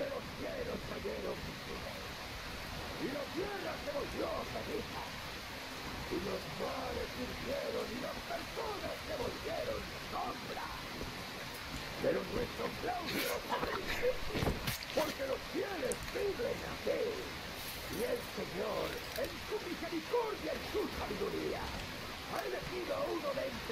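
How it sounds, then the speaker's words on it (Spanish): Steady rain in the video game Metro Exodus, a soft continuous hiss running throughout with a faint sharper burst midway and speech mixed in. "Está lloviendo, por eso."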